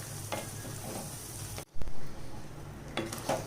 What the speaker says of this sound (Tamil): சிம்லேயே வச்சு நல்லா வதக்குங்க அந்த மாங்காவை